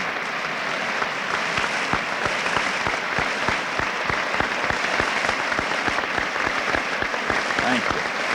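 Graduates at the 1974 Ball State University summer commencement applaud their families in a large hall, with a sustained, full crowd clapping that stays loud and even, and a few sharper claps standing out near the front.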